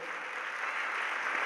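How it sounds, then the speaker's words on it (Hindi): A religious gathering's audience claps in approval, a brief, even patter of many hands held at a steady moderate level, slightly distant. "ताली बजा करके उनकी अनुमोदना करो"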